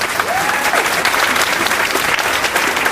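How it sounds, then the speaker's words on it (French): Applause from a crowd at a political office inauguration in Nice, a dense, loud, sustained clapping with a faint voice beneath it. "Je vous demande de lui réserver un tonnerre d'applaudissements"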